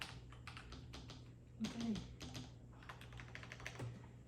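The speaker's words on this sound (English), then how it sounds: "Typing test." Rapid, fairly quiet clacking comes from a Nuphy Halo75 keyboard with linear switches, keystrokes falling in a quick uneven stream, with a person speaking briefly midway.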